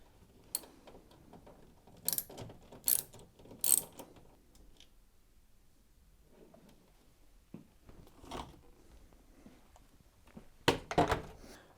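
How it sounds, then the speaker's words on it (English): A socket set ratchet clicks and clunks while removing the top screws of a tumble dryer, sparse short mechanical bursts separated by quiet pauses. "you need your socket set to remove the 3 screws that hold it in place."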